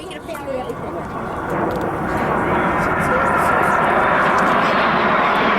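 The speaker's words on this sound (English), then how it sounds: "The beautiful Blue Angel T-33." Jet engine roar of the Blue Angel T-33 pulling through aerobatics at a 1997 military air show at Quonset ANGB, a broad steady rumble that builds and holds loud, with an announcer talking over it.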